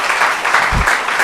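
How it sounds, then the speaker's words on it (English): Students at a convocation ceremony give a brief, loud burst of applause, a thick wash of clapping hands with no voices heard over it. "Give yourself a round of applause."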